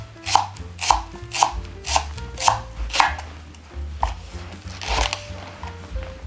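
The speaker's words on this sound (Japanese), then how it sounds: "ネギは斜め薄切りにします。" A knife slices green onion thinly on the diagonal against a cutting board for a pork and sake-lees soup, making a steady run of about ten crisp, evenly spaced chops, close and clear with no talking.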